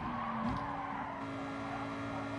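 A race car in the GT Sport video game slides through a corner, its tyres giving a short squeal over a steady, droning engine note with a brief pitch dip, loud and continuous throughout.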